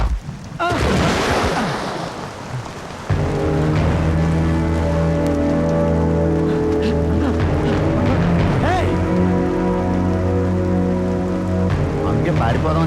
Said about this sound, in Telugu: వర్షం బాగా కురుస్తున్నాయి.